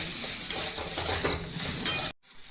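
Sambar masala and turmeric sizzling as they fry in oil in a pan, with steady close sizzle and a few stirring scrapes of a spoon against the metal before it cuts off abruptly.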